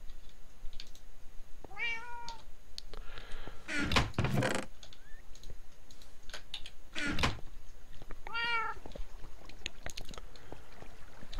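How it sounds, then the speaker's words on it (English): House cats meow several times, with two clear drawn-out meows separated by a few seconds, alongside soft clicks and thumps nearby and no talking. "My cats are cool. I like my cats."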